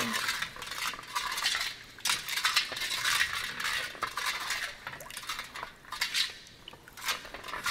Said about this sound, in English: you just want to mix in your sorrel until you feel all your sugar grains melt away